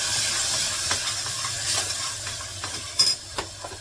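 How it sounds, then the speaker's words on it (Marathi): Spices frying with finely chopped onion and tomato in a pan, a steady close sizzle and hiss with a few soft stirring scrapes and clicks, no talking. "मसाले परतायला कांदा टमाटा बारीक केलेलं वापरलं"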